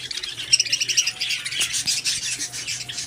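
Pet birds at the Lalukhet Sunday bird market, including rainbow lorikeet breeder pairs, chirp and tweet in a dense, continuous chorus of bright overlapping calls, fairly close and loud with no talking.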